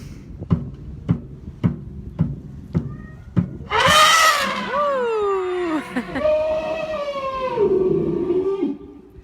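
A series of sharp knocks gives way to an Asian elephant's loud, wavering trumpets and squeals played back from an earlier session recording, continuing in long rising and falling calls.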